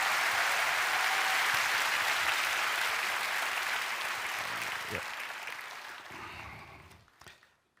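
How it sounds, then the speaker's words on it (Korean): A church congregation at a Friday prayer service applauds in welcome with sustained, dense clapping that slowly thins and fades away near the end. "박수로 환영해 주시죠."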